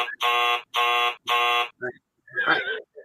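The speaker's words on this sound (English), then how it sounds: "Sounds like a doorbell" A home alarm buzzer sounds three loud, evenly spaced electronic buzzes, each about half a second long, followed by brief speech from people nearby.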